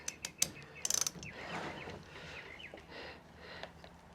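A 3/8 drive ratchet tightens the cooling fan bolts on a 1996-2004 Nissan Pathfinder, giving a few quick clicks and then a rapid run of pawl clicks, quiet and close, followed by soft handling noises.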